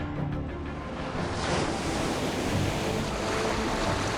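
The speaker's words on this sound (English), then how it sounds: "generating colossal waves" Large ocean waves stirred up by a pod of orcas swimming fast in synchrony: a continuous, loud, broadband rush of surging water with wind, steady throughout and no voices.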